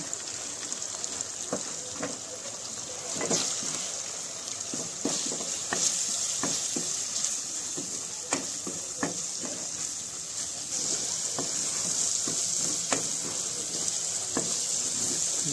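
Tomato, soybean curry spices such as chili, turmeric, cumin and coriander powder sizzle steadily in a pan, with scattered clicks and scrapes of stirring throughout.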